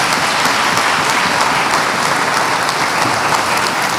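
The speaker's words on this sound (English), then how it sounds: "Let's give them another round of applause." An audience at a college Founders Day ceremony gives a steady round of applause after a performance, dense even clapping continuing for several seconds with no talk.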